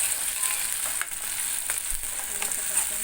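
Tomato going into hot oil with sizzling cumin and mustard seeds for kanda poha, a continuous close frying hiss with light stirring scrapes.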